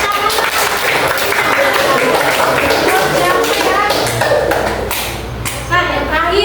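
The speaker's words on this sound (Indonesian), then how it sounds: "Kasih tepuk tangan" Students in a classroom clap in applause, a brisk, close patter of hands mixed with chatter and voices throughout, ending in a few scattered taps.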